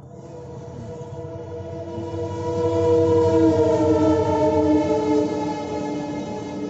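A train on the Sarupathar railway line in Assam rumbles past nearby, loud and steady, while a long sustained horn blares over the rolling wheels and swells toward the middle.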